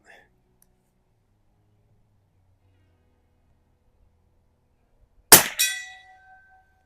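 A rifle shot striking a steel target outdoors, heard as a single sharp metallic clang with a short ringing tail after several seconds of near silence.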